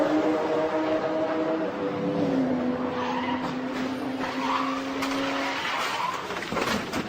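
Jamie Whincup's V8 Supercar race car pulls away after a spin, tyres squealing in a long, sliding screech as the engine drones under it, followed by ongoing circuit noise.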